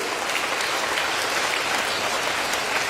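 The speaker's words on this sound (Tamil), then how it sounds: "இந்த கைதட்டு பத்தாது நினைக்கிறேன் உங்க அம்மாக்கு" An audience in a hall applauds mothers at a Tamil talk on honoring women. Dense, steady clapping continues at an even level throughout, with no voices over it.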